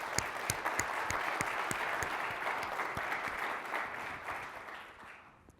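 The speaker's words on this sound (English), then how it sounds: "big round of applause" Applause from the audience at a corporate CEO briefing: a large crowd clapping steadily with a few sharp claps standing out, holding strong and then thinning and fading out near the end, with no talk.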